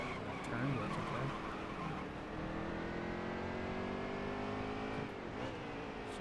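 A race car in NASCAR Heat 3 holds a steady, droning engine note at high revs. The pitch shifts slightly and a short tire squeal comes through, all at a constant loud level.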